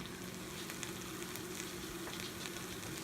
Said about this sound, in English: Look at that. Sizzle, sizzle, sizzle.